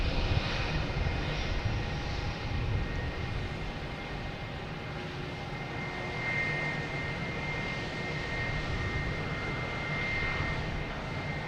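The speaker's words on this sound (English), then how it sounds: "it's the Embraer 190 that JetBlue has." A JetBlue Embraer 190 jet at Boston Logan Airport produces a steady, loud engine roar with a faint high whine. It holds constant for the whole stretch with no voices.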